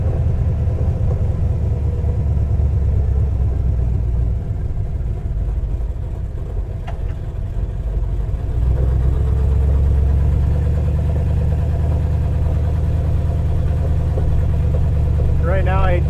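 A Plymouth Road Runner runs steadily with a low, continuous engine rumble and rattles, the drone dipping briefly midway before resuming, with faint higher squeaks near the end.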